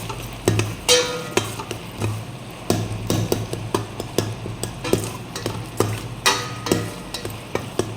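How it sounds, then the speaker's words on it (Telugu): A spoon scrapes and taps repeatedly against a pan as ginger garlic paste is stirred into a tomato curry, with irregular close knocks over a low sizzling frying background. "ఇంకా అల్లం వెల్లుల్లి పేస్ట్ కూడా బాగా కలిపేసుకోవాలి"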